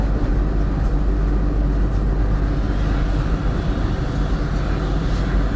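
The Kamakhya to Katra Express passes on the line in Assam, a loud, continuous rumbling roar heard close throughout.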